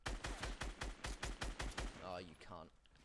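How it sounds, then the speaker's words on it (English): Rapid automatic gunfire in Fortnite Battle Royale cracks in a fast, even burst of about a dozen close shots, and a voice follows at the end. "now I'm getting shot from the fucking side as well"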